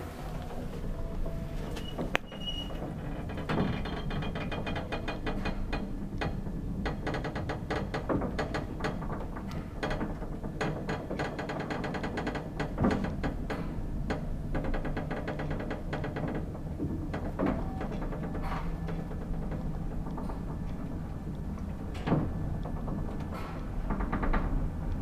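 A 1959 Kone traction elevator's machinery runs in a building in Lahti, Finland, giving a continuous mechanical rumble with rattling, clicking and knocking throughout, steady and close, with no talking.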